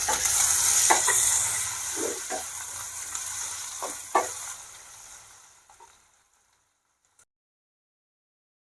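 Onion and grated ginger fry in hot oil in a pan for dal khichdi, a loud crackling sizzle with stirring scrapes that fades away to silence, ending in a sharp knock.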